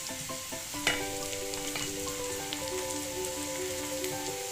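Panch phoron spices crackle and sizzle in hot oil for a tori fish curry, a dense, steady spitting hiss close by with sparse pops, alone without talk.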